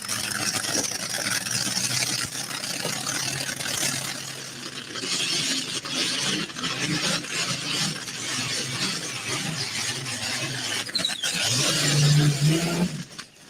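A pulling tractor powered by a Rolls-Royce V12 Spitfire aircraft engine of 2,240 cubic inches gives a loud, steady engine roar that stays close and continuous, swelling near the end before cutting off.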